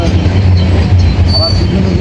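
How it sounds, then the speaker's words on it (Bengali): A long freight train rolls past nearby with a loud, steady low rumble and faint squeals from the wheels. "হ্যাঁ তো মাল গাড়ি বাবা। বাবা, এ গাড়ি শেষ হতে এখন অনেক টাইম লাগবে।"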